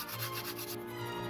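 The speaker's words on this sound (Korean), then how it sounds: "보다 예리하게 칼날을 갈아주고 거친 모서리 위주로 사포질을 해줍니다" Sandpaper scrubs the rough edges of a 3D-pen plastic kunai blade, close-up rhythmic rasping strokes in quick succession, soft and dry.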